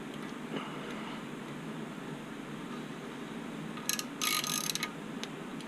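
Ratchet clicks on engine bolts being snugged during a forged Mazdaspeed 6 2.3 MZR engine build, a short burst of close, rapid ratcheting near the end over a steady background hiss, with a few fainter clicks earlier.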